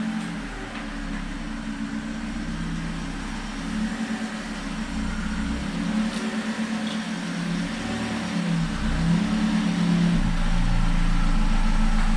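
Engine of a Vauxhall Corsa D running steadily, a low hum that holds close and builds slightly louder toward the end, with no talk.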